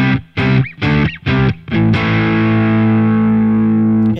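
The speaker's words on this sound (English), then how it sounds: "You can use natural overdrive, which also sounds great, but you can play around with all these overdrives." Electric guitar through overdrive on a Boss Katana Mk 2 amp: three short distorted chord stabs, then a held crunchy chord ringing out and slowly fading, loud and alone.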